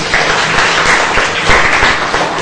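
A class of primary school students claps loudly during a math lesson on multiplying decimals, a brisk, steady burst of close applause lasting a couple of seconds.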